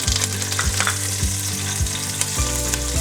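Fenugreek, mustard seeds and a handful of curry leaves frying in hot oil for a fish curry, giving a loud, steady sizzle and crackle close by with rhythmic stirring.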